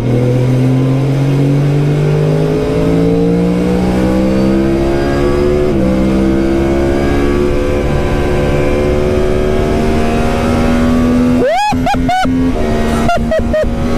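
A Formula 4 race car engine on a circuit, loud and close, climbing steadily through the revs in long pulls with brief shift dips, then sharp rapid downshifts and blips near the end as it brakes.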